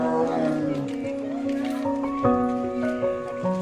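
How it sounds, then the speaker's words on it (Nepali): A tiger roars in its enclosure at Mangalore zoo with a drawn-out, low, moaning call that rises and falls over a few seconds, while onlookers chatter nearby. "हेर्नुहोस् त बाघ कराएको सुन्न सक्नुहुन्छ"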